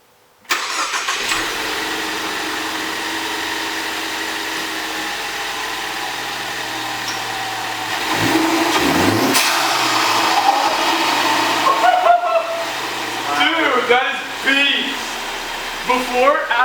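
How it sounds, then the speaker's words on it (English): A car engine cranks and settles into a steady idle, with a cold air intake fitted, then revs climb near the end with whooshing turbo-style noises, loud and close, with a voice speaking over it. "we're gonna start it, and hopefully hear some turbo noises."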